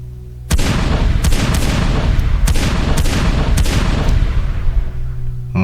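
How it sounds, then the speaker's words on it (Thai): A loud burst of repeated gunfire, several sharp shots at irregular intervals over a constant roaring background. "มีเสียงปืนดังตามมาอีกหลายนัด"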